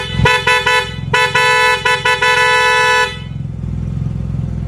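A loud, brassy aftermarket horn on a Yamaha TMAX 560 scooter blares in a series of rapid bursts, then a long sustained blast, before the engine idle continues alone.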